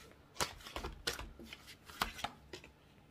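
Tarot cards being shuffled and drawn, giving a run of crisp papery riffles and slaps at an uneven pace, close and fairly loud, with no talking.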